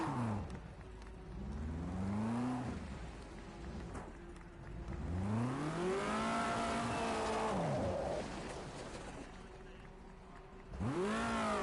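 A race car engine in Project Cars 2 revs up and down in repeated sweeping pitch climbs and drops, droning fairly faint and steady across the stretch, with no talk.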